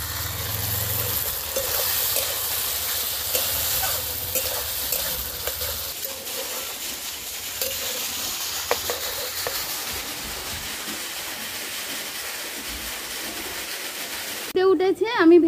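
Mustard paste and spring onions fry in a pan, giving a steady, moderate sizzle with occasional stirring clinks while a person talks over it.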